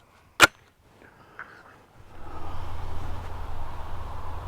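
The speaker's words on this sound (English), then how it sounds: "We're going to try some shooting at 25 yards" A single sharp gunshot from a Beretta CX4 Storm carbine fired at 25 yards on an outdoor range, followed by a faint tap and then a low rumbling background noise.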